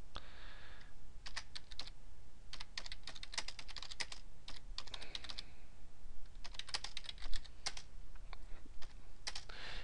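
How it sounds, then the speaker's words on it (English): Keystrokes on a computer keyboard come in quick bursts separated by short pauses as a date is entered into a spreadsheet, close and clear, with no talking. "Let's go ahead and type today's date."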